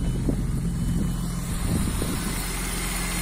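Low, steady engine rumble of an idling BMW E34 with an M50 engine running on LPG, close to the microphone, with a little wind buffeting and no talking.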